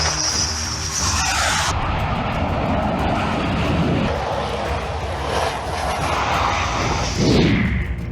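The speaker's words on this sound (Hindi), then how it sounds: "जेट की लैंडिंग।" A fighter jet, such as a Rafale, Sukhoi or Jaguar, roars low over an expressway used as a runway for a touch-and-go landing, its loud engine howl sustained and shifting in pitch as it passes close by.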